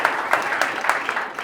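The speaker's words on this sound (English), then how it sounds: "round of applause" Audience applause at a stand-up comedy show, a short burst of steady clapping from a crowd with faint voices mixed in.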